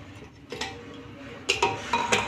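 A pressure cooker holding a pea and mushroom curry is opened in a home kitchen, with several sharp metallic clanks and clatters of the lid and pots, close and distinct.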